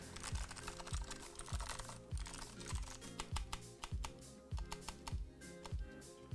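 Mechanical keyboard with a DSA spacebar on an Alps rebuild, typed at a steady rhythm: crisp clacking keystrokes punctuated by deeper, regular thumps of the spacebar, close and clear with no voices.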